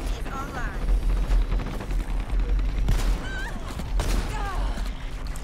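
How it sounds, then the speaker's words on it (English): Shotgun blasts in the online shooter Dirty Bomb, fired during an open-beta match: several sharp, loud shots over a few seconds, mixed with other gunfire and game effects. "Shotguns, I love them."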